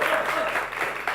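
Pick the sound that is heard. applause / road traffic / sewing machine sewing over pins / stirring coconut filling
applause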